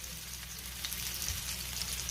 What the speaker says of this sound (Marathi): मी शॅलो फ्राय करून घेते।